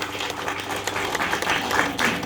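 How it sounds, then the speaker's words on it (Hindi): Dense, loud, sustained applause from a crowd at a Viksit Bharat Sankalp Yatra and yoga awareness gathering in a village gram panchayat, with no talk over it. "जोरदार तालियां उन बच्चों के लिए भी होनी चाहिए।"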